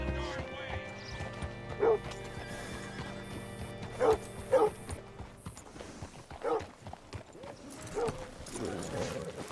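Horse hooves clip-clop at a slow walk in the video game Red Dead Redemption 2, and a horse neighs a few times between the steps. Voices talk intermittently.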